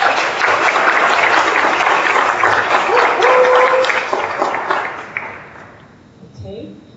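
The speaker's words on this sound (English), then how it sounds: "Please give her a hand of applause." Audience applause for a speaker at a closing panel discussion, a dense burst of clapping that holds steady for several seconds and then thins and fades out.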